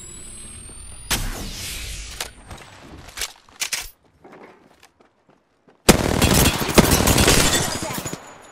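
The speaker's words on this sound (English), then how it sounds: "The enemies are shooting at me." Enemy gunfire in the Apex Legends shooter game: a few sharp shots, scattered quieter pops, a short lull, then a loud sustained automatic burst, close and dominant.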